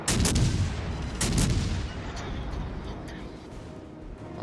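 Naval gunfire in the World of Warships Legends game, shells landing from heavy cruiser Suzuya's battle: two loud booming blasts near the start followed by a rumbling, fading roar of distant impacts.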